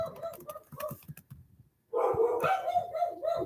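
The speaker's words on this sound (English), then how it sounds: "The dogs are barking a lot." Indoor dogs bark in short, repeated yips and bow-wows, moderately close, breaking off briefly before a louder burst of barking and whining resumes, with no talking.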